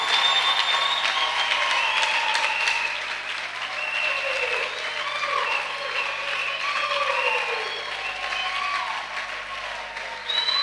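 A church congregation claps and cheers in praise of the Lord during a worship service, steady dense applause with voices and whoops ringing over it, loud and sustained throughout.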